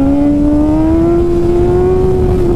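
A car engine revs loudly and close, its tone climbing steadily in one sustained, rising pull with no voices.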